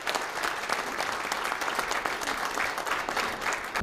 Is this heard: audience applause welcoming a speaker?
yes